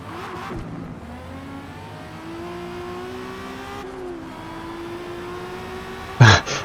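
A 1000bhp Toyota Supra in Forza Motorsport racing at Spa, engine revving and climbing through gears in a steady whine, then a sharp burst of noise near the end.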